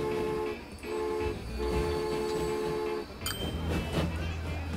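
Passenger trains rolling along a rail line in the transport-simulation game Transport Fever, a steady rumbling run with a long sustained horn-like tone and a brief drop partway through, fairly loud and continuous.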